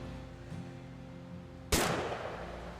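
A single loud gunshot in the video game What Remains of Edith Finch, a sharp, sudden blast with a lingering decay after a quiet stretch of low ambient music.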